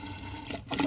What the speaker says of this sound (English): It's very soapy water.